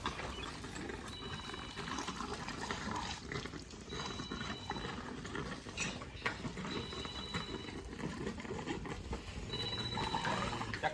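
A telephone rings faintly in a steady repeating pattern, four evenly spaced electronic trills over a noisy outdoor background on a farm where a pregnant cow is being untied.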